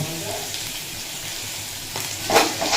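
Loud, close sizzling of potatoes frying in a pan with garlic, grated ginger, turmeric and salt, with scraping stirs and a brief clink of utensils near the end.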